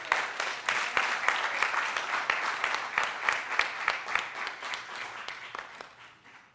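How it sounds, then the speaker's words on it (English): Audience applause at a YouthBuild graduation ceremony in St. Louis, a medium crowd clapping with distinct rhythmic claps standing out, strong at first then gradually tapering off. "Can we get a round of applause"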